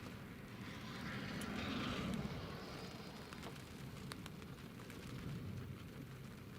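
An Eastern Airways aircraft backtracking along the runway at Newcastle airport, heard as a faint, distant steady engine rumble and hiss that swells slightly and then holds level.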